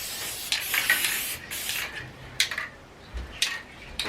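Basting adhesive sprayed from an aerosol can onto quilt batting, several short hissing bursts at close range separated by brief pauses, with no talking.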